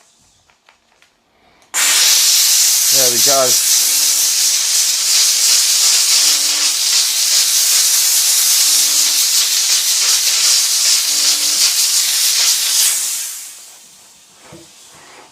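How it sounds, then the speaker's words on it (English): A Dupray One Plus steam cleaner lets out a loud, steady hiss of steam for about eleven seconds before it tapers off, with a short remark spoken during it. "Crank that steam up a little bit more."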